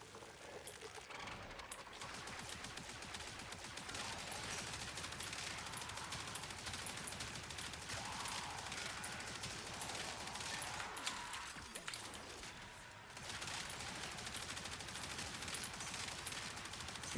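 Rapid sustained automatic fire from the Athodai primary weapon in Warframe, a dense, loud, continuous burst of gunshots running almost unbroken, with a brief pause near the end before firing resumes.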